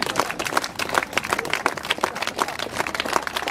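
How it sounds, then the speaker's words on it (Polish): A crowd claps hands together at an outdoor festival marking the opening of a new bus line, producing dense, steady, fairly loud clapping with no pauses. "Wszystkie dłonie klaszczą."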